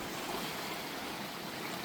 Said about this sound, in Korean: 파도도 세고